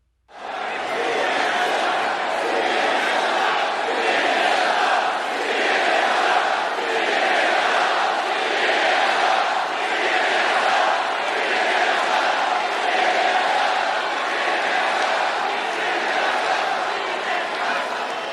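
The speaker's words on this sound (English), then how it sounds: "you hear a chant begin spontaneously from the crowd that says, CNN sucks" Large rally crowd chanting "CNN sucks" in a loud, rhythmic, sustained roar of many voices, repeating in steady pulses throughout with cheering mixed in.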